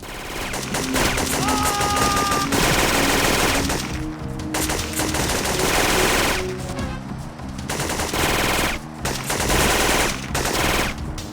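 Sustained automatic gunfire and rapid shots from the video game Syphon Filter 2, loud and nearly continuous with brief lulls, layered with game music and effects.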